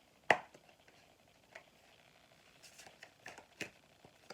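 A deck of tarot cards is shuffled, with soft, scattered riffles and snaps after one sharper initial slap, close and fairly quiet.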